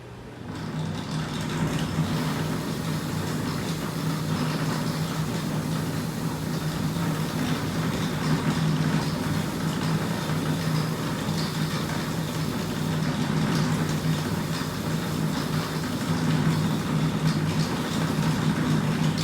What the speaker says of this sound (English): I'm gonna take it to my wire wheel real quick